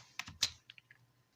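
A few quiet keystrokes on a computer keyboard, sparse irregular clicks close up in a quiet room.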